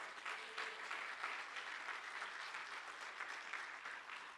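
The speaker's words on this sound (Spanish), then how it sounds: "denle ese aplauso al Señor" A church congregation applauds steadily throughout, dense clapping from many hands filling the room at an even, sustained level.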